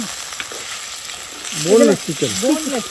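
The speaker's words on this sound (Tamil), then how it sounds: "இப்போ சிக்கனை போட்டு வதக்க போகிறேன்" Chicken sizzles steadily in a hot pan, with a voice talking over the frying for the last couple of seconds.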